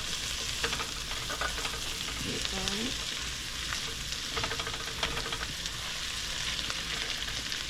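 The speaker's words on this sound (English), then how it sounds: "now I'm going to put in here this garlic right here. Just mix it up a little bit." Garlic sizzles steadily in a pan with canned corned beef, broadband frying hiss running throughout while a utensil stirs with scattered scrapes and clicks; a faint voice-like tone briefly surfaces in the middle.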